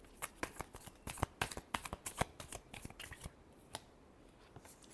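Tarot cards are shuffled close up in quick bursts of crisp riffling slaps and flicks, busy at first and then thinning to a few scattered taps.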